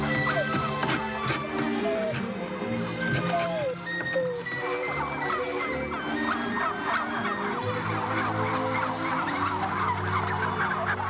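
Several turkeys gobble and call in a burst of overlapping, warbling cries at close range during banding, with mechanical clatter and background noise mixed in.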